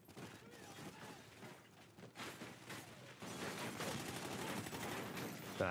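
Dense, sustained automatic gunfire from a barrage in the Call of Duty: Ghosts campaign, rumbling continuously and growing louder midway, with voices faintly underneath.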